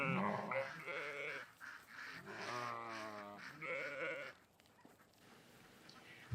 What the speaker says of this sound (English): These sheep are particularly sweet.